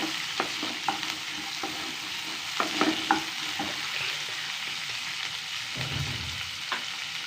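Finely chopped onions fry in a pan for a mutton gravy, giving a soft, steady sizzle broken by occasional scraping stirs.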